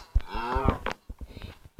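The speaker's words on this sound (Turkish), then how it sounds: "İnek, inek, inek." A cow in the Minecraft video game lets out a clear moo, followed by a few short softer animal grunts and clicks.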